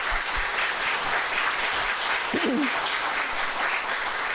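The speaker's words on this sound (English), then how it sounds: "let's give them a round of applause" A crowd at the opening of a recreation center applauds in a steady, continuous patter of clapping, with a faint voice briefly audible partway through.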